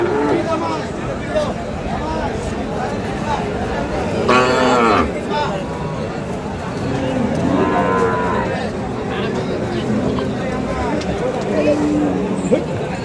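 Large bulls low repeatedly at a busy cattle market, one loud moo standing out midway and others further off, over steady crowd chatter and nearby talk.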